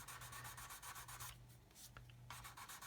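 Rhythmic back-and-forth sanding strokes rasp quickly and evenly over a 1/32 scale Lancaster model wing panel, pausing briefly midway before resuming, quiet and close.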